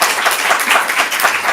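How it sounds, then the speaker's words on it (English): A comedy club audience claps in a brief, loud, dense burst of applause for a stand-up comedian, steady throughout. "Give Milt a round of applause."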